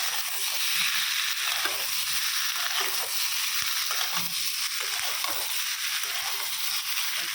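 Paratha fries in ghee on a gas stove, giving a continuous close sizzle with intermittent crackles and soft stirring or scraping noises, heard with no talking.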